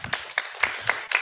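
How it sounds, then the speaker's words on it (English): Scattered audience applause at a regional forum on care work, just a handful of sharp, separate claps in quick succession, close and fairly light. "let's give Myra a round of applause."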